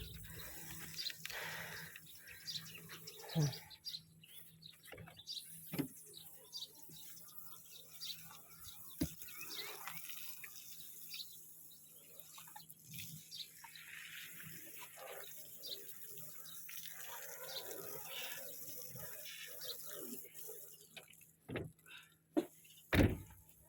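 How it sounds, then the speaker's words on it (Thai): Water from a hose or tap washing out a pickup truck bed outdoors, heard as a steady running spray with occasional knocks and clatters and birds in the background, at moderate distance. "มาดูช่างซ่อนล้างกระบะก่อน"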